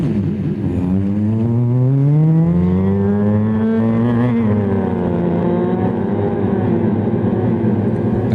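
A voice imitates a sports car driving past, a loud sustained engine-like drone that rises in pitch, holds, then sweeps gradually, close to the microphone and alone for about eight seconds.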